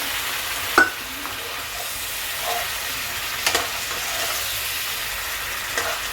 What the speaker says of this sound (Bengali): এক কাপ জল দিয়ে ভালো করে নাড়াচাড়া করে ভেজে রাখা ডিমটা আমি দিয়ে দিলাম